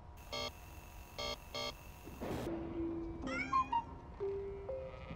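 A cat meows several times in the horror video game Amanda the Adventurer, with short tonal calls rising over a soft game background after a burst of repeated electronic chimes.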